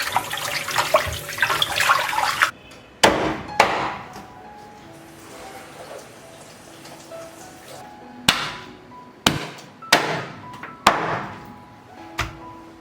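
Raw whole chicken is washed under a running kitchen tap, with splashing water for a few seconds, then a quiet stretch and several sharp knocks and thuds of the bird being handled in the sink.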